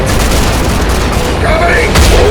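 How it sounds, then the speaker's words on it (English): Dense, loud enemy gunfire rattles on continuously in the RAGE shooter on Nightmare difficulty, a steady wash of shots with a heavier burst near the end. "Yeah, he's shooting me!"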